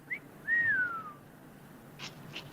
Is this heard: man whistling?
yes